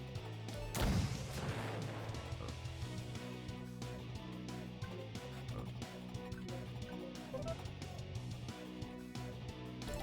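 Dynamite explosion in the Roblox game Block Tales, a single sharp booming blast near the start followed by a steady layer of game music and effects, with no talking.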